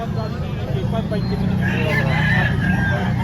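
A three-year-old rooster crows over a busy background of chatter and general outdoor noise in Lipa, Batangas.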